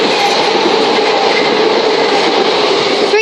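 A Class 377 electric multiple unit on the Brighton Main Line passes through South Croydon station with a loud, steady, close-up roar of wheels and motors that holds without a break.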